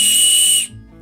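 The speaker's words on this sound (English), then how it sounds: "A not particularly loud whistle." A plastic survival-kit whistle gives one shrill, steady blast lasting over half a second, close and loud, then cuts off.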